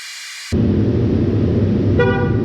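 A Cadillac XTS horn gives one sustained loud toot, starting abruptly and holding steady close by.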